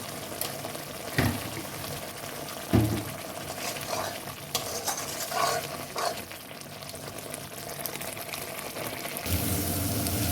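Masala spice paste with sugar sautéing in oil for a crab and potato curry: a continuous soft sizzle with intermittent scraping and stirring clatter from a spatula, close up and without talk.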